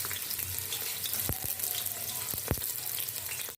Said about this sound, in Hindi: अब इसमें हम प्याज डालेंगे और प्याज को हमने फ्राई कर लेना है